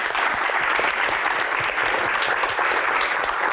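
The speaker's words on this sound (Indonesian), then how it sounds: "Tepuk tangan" Steady, dense audience applause fills a talk show Q&A with comedian Sule, with many hands clapping evenly and fairly loud throughout, with no voices on top.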